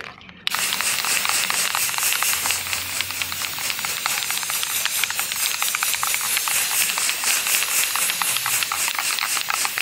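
A spray paint can hisses steadily and close, one long continuous burst after a brief pause, laying light coats of stock white paint onto a speaker cabinet for a backyard sound system.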